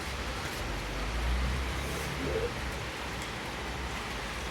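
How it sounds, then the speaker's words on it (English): Rain falls at night in Dalat, Vietnam as a steady, soft broadband wash with faint traffic rumble underneath, quiet and continuous with no talk. "now that it started to rain, and it's going to rain for the next couple of hours"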